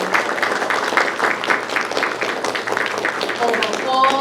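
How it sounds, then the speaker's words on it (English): An audience breaks into dense, continuous applause, many hands clapping together at a steady, fairly loud level throughout. "give yourselves a round of applause"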